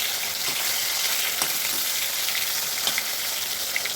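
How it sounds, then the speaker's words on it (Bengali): Koi fish frying in hot oil in a wok, a steady close crackling sizzle with a few sharper pops and spatters, no talking. "তেল আমার গরম হয়ে গেছে, এখানে আমি কই মাছগুলো ছেড়ে দেবো ভাজার জন্য"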